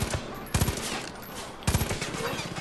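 Gunfire in the shooter game Far Cry 5: a few sharp, sputtering bursts of shots at a moderate distance, separated by short pauses over a steady rumbling game background.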